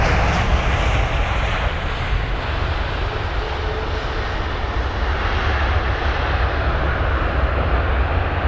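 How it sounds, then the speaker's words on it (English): An American Airlines Boeing 777-200ER, flight AA80 from Dallas, 22 years old, gives a steady, loud broadband engine roar that holds evenly throughout with no talking. "AA80, the American Airlines 777-200ER with the Reg November 754 Alpha November"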